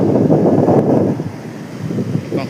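Sea waves wash onto a shore under heavy wind buffeting the microphone, a loud, steady roar that dips briefly and swells again, close and with no voices.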